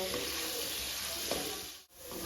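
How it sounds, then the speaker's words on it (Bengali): Potatoes seasoned with salt and a little turmeric fry in hot oil in a pan, a dense steady sizzle filling the sound close up, broken by a brief dip near the end. "এবারে আমি আলুটা ভেজে নেব"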